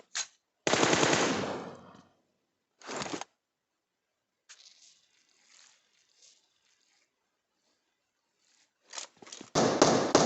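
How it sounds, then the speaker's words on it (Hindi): Gunfire in the mobile game PUBG Mobile comes as sharp bursts of automatic fire, separated by quiet gaps with faint shuffling and footstep-like taps, with heavier rapid shots returning at the end. "अब इधर से फायरिंग साउंड आ रही थी और फुटस्टेप भी आ रहे थे"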